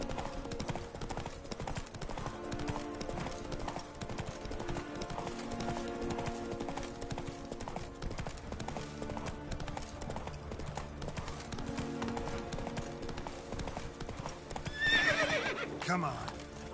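Geralt's horse Roach gallops in The Witcher 3, with a rapid clip-clop of hooves under music and game sounds and a whinny near the end.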